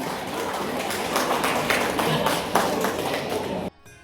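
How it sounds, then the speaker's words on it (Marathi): Men at a Diwali family get-together applaud the women of the family. Dense, steady clapping comes from a group close by and continues for several seconds, then cuts off abruptly. "एकदा पुरुष मंडळीने या महिला वर्गासाठी टाळ्या झाल्या पाहिजे"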